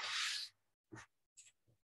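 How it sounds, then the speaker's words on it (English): A speaker at an academic talk shuffles paper pages: one brief crisp rustle, then a few soft, short paper handling sounds, close and quiet in an otherwise silent room. "I need to shuffle the page,"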